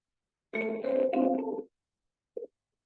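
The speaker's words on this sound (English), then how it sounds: "We're gonna double dial, redial them." Telephone ringing on an outbound redial during a real estate cold call to a motivated seller, one long harmonic ring burst of about a second followed by a brief second chirp, clear and alone with no talk.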